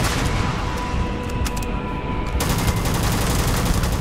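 Rapid gunfire crackles in Starfield, a continuous loud burst of repeated shots with sharp, dense reports filling the whole stretch.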